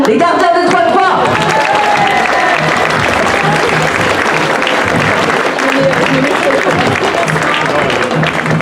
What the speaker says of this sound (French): Merci d'applaudir les gardiens de Trois-Croix.